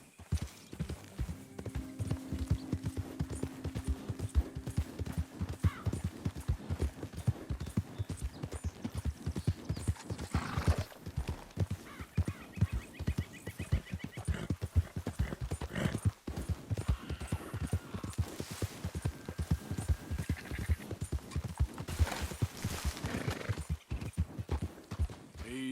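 Horse hooves clip-clopping at a brisk gallop in the video game Red Dead Redemption 2, a fast continuous rhythm of thuds across the whole stretch, with occasional snorts and whinnies and someone speaking briefly to the horse.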